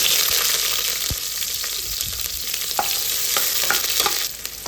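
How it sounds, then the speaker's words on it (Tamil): Sliced large onions fry in sesame oil for a mushroom biryani, giving a steady, close sizzle and crackle throughout, with scattered scrapes and taps of a spoon stirring in the pan. "நல்லா வதங்கணும் அதாவது அந்த நல்லெண்ணெயிலேயே பெரிய வெங்காயம் வந்து நல்லா செந்நேரமாக வந்துடணும்"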